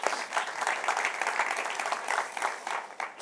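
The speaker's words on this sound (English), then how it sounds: "You deserve a round of applause." Conference audience at an Angular developer event applauding, a dense, even burst of clapping from a sizable crowd that holds steady throughout.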